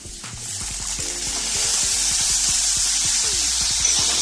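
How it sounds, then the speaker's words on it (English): Fish sizzles in a hot pan as soy sauce is poured in, a steady bright hiss that grows louder and holds, with faint clicks and kitchen clatter underneath. "Just add the soy sauce"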